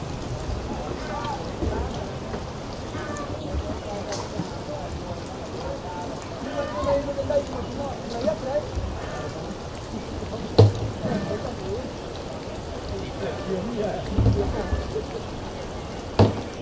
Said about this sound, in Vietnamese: Nước trên sông chảy vẫn khá là cao ạ.